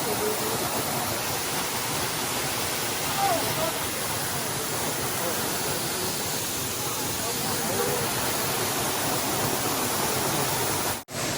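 A rainforest waterfall pours with a constant, dense rushing roar, heard nearby and steady throughout, cutting off abruptly at the very end.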